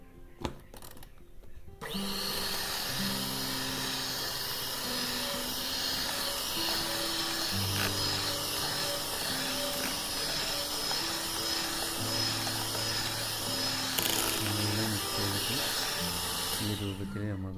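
An electric mixer whirs steadily through egg yolk cake batter, a loud continuous motor drone with shifting pitch that starts after a short pause and runs for the rest of the stretch.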